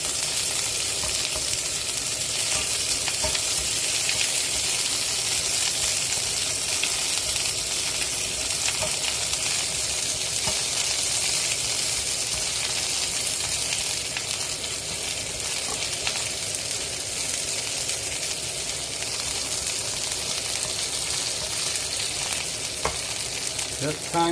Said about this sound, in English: Make sure the fat is hot before you put onion in. Give it a stir.